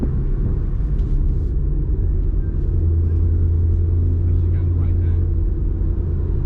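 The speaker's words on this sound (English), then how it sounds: "I got the Flowmasters Outlaw series with the X catback. I love it. It's not loud, but the sound is amazing." A car fitted with a Flowmaster Outlaw series X catback exhaust gives a steady, deep, throaty rumble heard from nearby, mellow rather than loud, with no clear revving.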